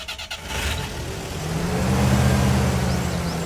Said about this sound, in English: So let's start up the engine and see what this thing sounds like.